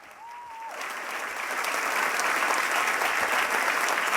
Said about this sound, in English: the applause from staff and invited guests who've been listening across the building